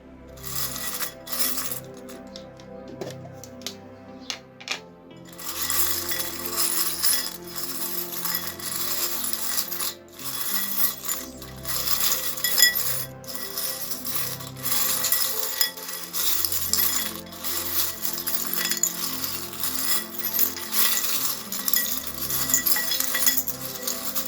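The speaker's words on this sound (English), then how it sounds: "I will be pulling the charms and adding them to my mixing cup here" Small metal charms clink and jingle as they are dropped into a mixing cup, a dense run of bright tinkling and rattling taps that continues steadily throughout, close and fairly loud.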